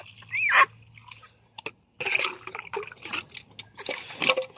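Water poured into a container for animals on a farm plot, an intermittent splashing trickle that comes in uneven bursts, close by, with a few brief sounds mixed in.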